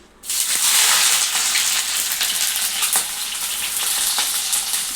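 Sliced onion and green chillies hit hot oil in a pan for a ridge gourd egg curry. A loud, bright sizzle bursts in at once and keeps up as a steady, close hiss with a few light stirring clicks.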